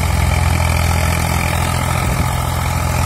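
A loud, steady Eicher 485 tractor engine idles close by, running unloaded, its low rumble running evenly without any change in load.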